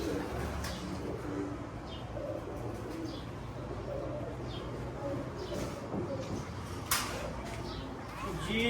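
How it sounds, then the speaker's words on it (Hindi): A domestic pigeon, a male bird kept in a loft, coos softly and quietly amid outdoor background hiss, with a faint chirp here and there and one brief sharp knock near the end. "एक ये नर है जी 41 नंबर कबूतर"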